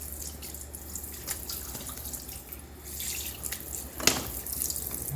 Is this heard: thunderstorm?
no